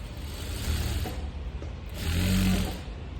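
Sewing machine stitching folded cloth into thread piping, a close, continuous mechanical whir that swells in two stretches over about three seconds, no talk.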